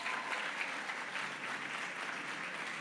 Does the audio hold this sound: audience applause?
yes